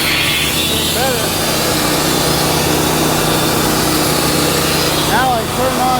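A Wood-Mizer sawmill runs with a constant, high-pitched engine and blade whine as it cuts through wood, loud and steady throughout. Someone speaks briefly over the machine.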